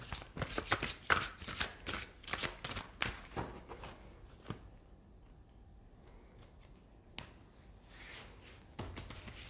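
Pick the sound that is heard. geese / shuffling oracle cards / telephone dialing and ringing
shuffling oracle cards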